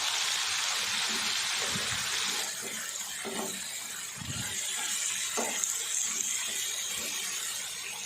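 Water pours and splashes into a pan of cooking spices for an aloo anday salan, a soft steady gush with some sizzling and a few clinks, heard alone at low level.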